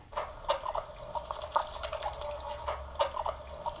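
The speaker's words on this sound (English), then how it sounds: "So this is the rural duck." Rural ducks quack in a field recording, a run of short, fairly quiet calls coming in uneven clusters over a soft background hiss.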